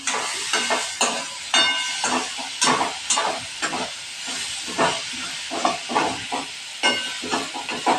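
Vegetables being stirred in a pan over low heat, with repeated scraping and clattering strokes against a constant sizzle and hiss of steam, close and fairly loud, no talking.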